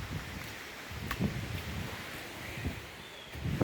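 Steady outdoor wind blowing on a foggy day, a broad low rumble with soft gusts and rustling that swell toward the end, moderately loud with no voices.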